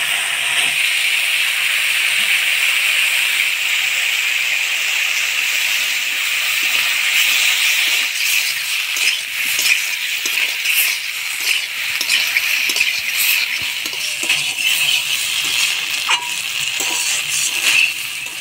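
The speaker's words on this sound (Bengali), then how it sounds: "ভাজে রাখা মশলা দিয়ে আলু ফুলকপিটা কষাই নিলাম" Potato and cauliflower stir-frying with fried spices in a pan, a loud continuous hiss and sizzle with scattered clinks and scrapes of a spatula against the pan, close up and without talk.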